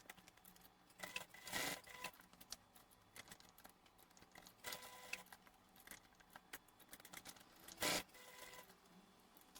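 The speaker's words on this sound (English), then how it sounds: "Go to the sewing machine and sew an X box on the D-ring tab to the side panel" A sewing machine stitches an X box pattern through a D-ring tab on a tote backpack side panel, running faint and intermittent, with short louder whirring bursts separated by quiet pauses.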